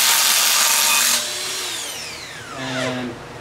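A Milwaukee power tool whirs loudly as it spins an engine crank bolt loose, then spins down with a falling whine and a brief second burst, with no talking.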